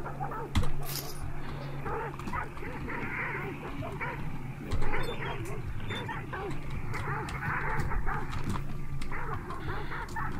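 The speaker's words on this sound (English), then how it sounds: "There's dogs, that's right, there's dogs. I can hear those dogs." Barking dogs in the video game Hunt: Showdown, with repeated yaps and whimpers, some louder at nearer moments, over steady game ambience while a person talks.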